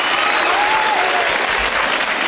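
A studio audience at a 1991 comedy variety show, Vic Reeves Big Night Out, claps in loud, sustained applause, dense and steady throughout with no voices heard.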